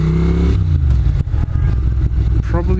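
A Ducati Monster 600 motorcycle engine thrums loudly while riding at low speed between gears, a deep steady rumble with brief dips and shifts as the throttle changes.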